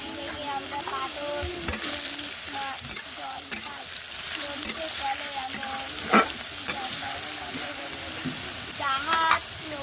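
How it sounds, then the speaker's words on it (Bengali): Crushed chopped garlic sizzling with browning onions in oil, a continuous crackle broken by occasional scrapes and knocks of a stirring spoon. "পেঁয়াজগুলো একটু ভাজা ভাজা হয়ে এসছে, ওর মধ্যে দিয়ে দেবো থেতো করে রাখা রসুন কুচি।"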